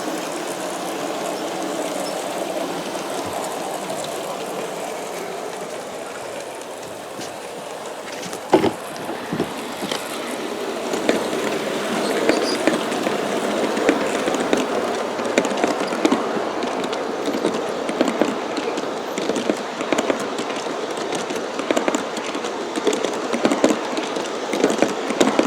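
A G scale model train runs along its track, a steady soft rumble and rolling hum with clicks and ticks of wheels over rail joints building in the second half.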